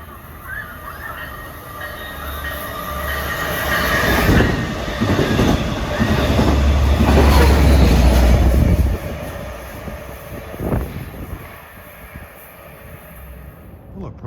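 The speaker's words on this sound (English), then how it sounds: "Here comes 563, whizzing by en route from Oyster Bay to Jamaica" A Long Island Rail Road train, number 563 on the Main Line from Oyster Bay to Jamaica, whizzes past close by, its rumble swelling to a loud peak with clattering wheels and some squeal before fading away.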